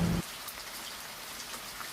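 Rain in an animated cartoon: steady rainfall hissing on a surface, continuous and even, with a brief low hum at the start and an abrupt cut near the end.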